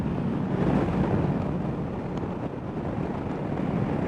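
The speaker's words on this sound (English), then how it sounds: "it's getting proper windy now and really overcast" Strong wind roars and buffets a microphone in a steady, rumbling rush with no voices, loud and continuous throughout, on an overcast day near Lake Vyrnwy.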